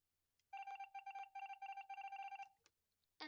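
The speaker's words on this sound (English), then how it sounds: "that was the sound of them voting me off" Among Us video game voting-off sound: a tonal, telephone-like pulsing melody of about eight quick repeated bursts over two seconds, followed by a short blip and another sound cut off at the end.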